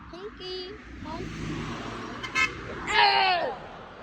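A semi-truck horn honks from the roadside at about three seconds, a brief loud blast over steady traffic noise, with a voice heard earlier in the clip.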